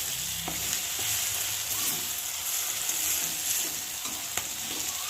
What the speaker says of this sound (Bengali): আর মেখে রাখা গিয়ে মাংসটাকে এবার ঢেলে দেবো, কেননা দেখতে পাচ্ছি মশলাটা ভালোই কষা হয়ে গেছে